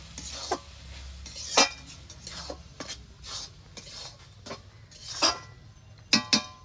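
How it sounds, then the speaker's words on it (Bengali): A spoon scrapes and clinks in a pan while ash gourd fried with mung dal and chopped coriander leaves is stirred. The scrapes come in soft, irregular strokes over a faint background hum. "এবার নেড়ে ছেড়ে নেব।"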